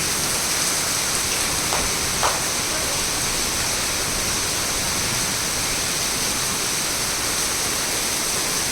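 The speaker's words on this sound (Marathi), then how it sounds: "आकाशातून पाऊस पडतो" Steady rain falling hard, a loud continuous wash of hiss with a couple of brief small knocks and no voices.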